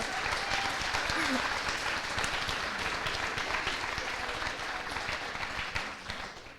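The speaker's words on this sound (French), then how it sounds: "On peut les applaudir, hein, vraiment." Steady audience applause for three finalists at an eloquence competition final in Le Mans, continuous clapping from a crowd filling the whole stretch at moderate, even level.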